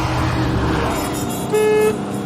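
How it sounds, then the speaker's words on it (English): A Noble sports car's horn gives one short, thin toot of under half a second, heard from inside the car over a steady engine and road rumble. "Pathetic horn. I mean, listen to that."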